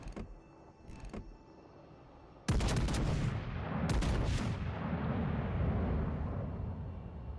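Warship turret guns firing in World of Warships Legends, a couple of faint distant shots followed by a huge booming broadside blast and a second heavy salvo that roll on into a long rumbling echo.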